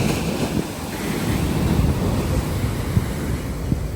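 Ocean waves at Kollam beach wash and surge in a steady, close roar, with gusty wind buffeting the microphone throughout.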